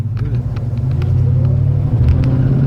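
A Ford XW Falcon pulls away, its engine giving a close, deep rumble that swells slightly as it takes off, heard alone.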